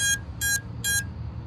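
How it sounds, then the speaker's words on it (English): An FPV quadcopter drone's beeper sounds three short, evenly spaced high-pitched beeps over a low background rumble. "That's what the beeper be doing."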